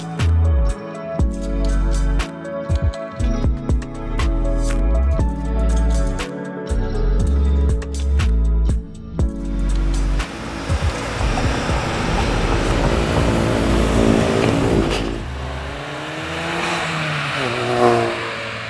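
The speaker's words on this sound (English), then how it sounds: "the noise you just heard was from a downpipe." A Volkswagen MK7 GTI fitted with an aftermarket downpipe exhaust sends out a series of sharp pops and bursts, then a long loud rumbling rev that rises and falls near the listener.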